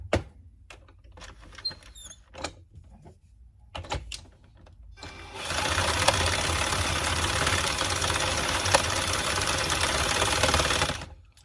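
Power drill driving a knitting machine, first a few short whirring bursts with sparse clicks and gaps, then a sustained loud mechanical whir and clatter for several seconds before it stops.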